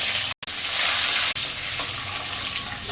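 Chopped onions hit hot oil already crackling with cumin seeds and leaves in a pan, giving a loud, steady sizzle that cuts out briefly twice near the start and then carries on.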